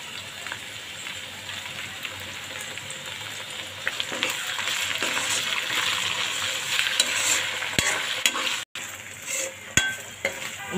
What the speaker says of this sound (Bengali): সবগুলো উপকরণ ভালোভাবে ভাজা হয়ে গেছে।